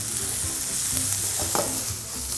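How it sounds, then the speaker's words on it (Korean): Garlic frying in oil together with soybean paste and chili paste, a steady close sizzle with stirring scrapes throughout, no voices. "마늘도 이렇게 기름에 튀기듯이 볶아주면 그 볶은 마늘의 풍미가 또 살아나요"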